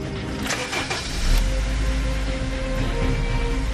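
Car engine starting in a dark spot, an opening burst of cranking clicks and whirs before the motor catches and settles into a steady, fairly loud idle rumble.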